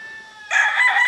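A gamecock crows loud and close on a gamefowl breeder farm, one strong crow rising after a thin tonal lead-in and holding to the end.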